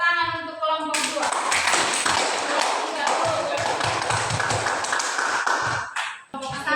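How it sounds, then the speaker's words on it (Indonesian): Students in a classroom clap for a presenting group, a brisk, somewhat uneven patter of hands that begins abruptly after a moment of voice-like tones, running steadily before cutting off near the end. "Tepuk tangan untuk kelompok 2"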